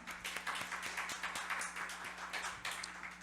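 A congregation claps in praise during a Sunday worship service at Wirye Central Church, quiet and somewhat distant, with steady overlapping hand claps and a low hum beneath.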